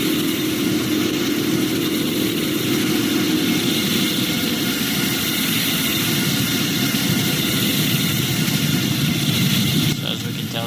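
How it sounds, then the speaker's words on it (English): A loud, steady Boeing 787-9 jet engine roar in the Roblox game Project Flight, a broad whooshing hum, continuous throughout, shifting slightly near the end. "as we go around the plane here, we have different engine sounds here"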